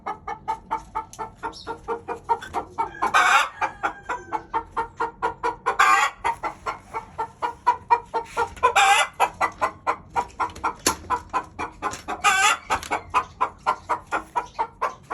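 An aggressive hen clucks continuously in a fast, steady rhythm, with louder drawn-out squawks breaking in every few seconds, close and loud.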